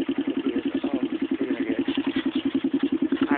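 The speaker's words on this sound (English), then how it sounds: "this is my TRX 250 EX with a big gun slip-on exhaust, and we're gonna get a sound clip of that." Honda TRX 250EX ATV fitted with a Big Gun slip-on exhaust idles close by, a steady loud, lumpy single-cylinder putter with an even rhythmic pulse throughout.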